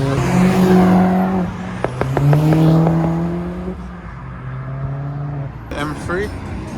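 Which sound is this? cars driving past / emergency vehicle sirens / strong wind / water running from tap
cars driving past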